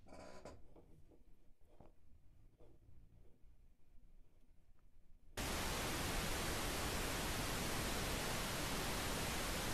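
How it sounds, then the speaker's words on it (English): Pink noise test signal played during an AV tech demonstration of effects and signal processing, switching on abruptly midway as a loud, steady, dense broadband hiss after a quieter stretch of faint background sound. "This is pink noise."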